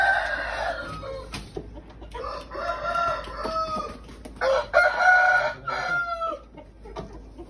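Several chickens cluck and squawk close by, with a rooster crowing among them in busy, overlapping bursts.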